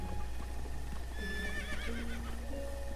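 A horse in the video game Breath of the Wild gives a clear, wavering whinny over soft hoof clip-clops and a steady game background.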